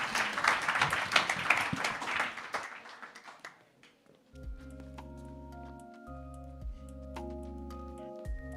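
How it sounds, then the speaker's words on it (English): A crowd at a tech launch event in Denver gives a panel a closing round of applause that fades out after a few seconds, followed by quiet and then low electronic music tones. "give the panel one more round of applause"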